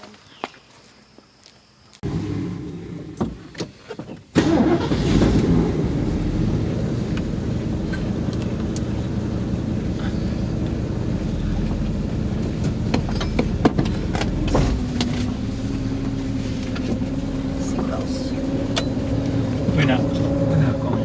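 After a quiet start and a few knocks, a car with a freshly rebuilt motor pulls away on a short test drive, its engine rumbling steadily inside the cabin with wind noise while people talk.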